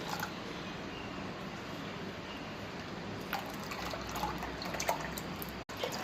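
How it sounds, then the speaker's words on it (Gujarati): Bael fruit pulp mixed with water trickles and drips through a kitchen strainer, a soft continuous liquid patter with a few brighter drops, close and quiet. "તો એક ગરણીની મદદથી આપણે એને એકદમ સારી રીતે ગાળી લેશું।"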